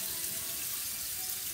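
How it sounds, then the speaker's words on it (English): Kitchen tap water running steadily into a sink while hands are washed, a continuous close hiss and splash. "And wash my hands ancora, ancora."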